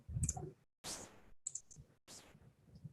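A computer mouse clicks sharply a few times in a quiet setting, short isolated taps with gaps of silence between them, close and clear.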